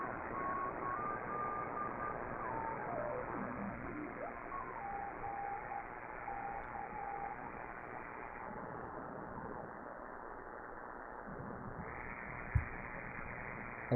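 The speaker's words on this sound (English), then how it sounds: "It's a guy sending some very slow Morse code." Very slow hand-sent Morse code on amateur radio, a single operator calling CQ: a thin keyed tone sounds unhurried dashes and dots over constant radio hiss, fading out midway and leaving only static with a brief click near the end.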